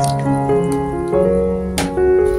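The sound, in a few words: pouring water over potatoes and carrots in a container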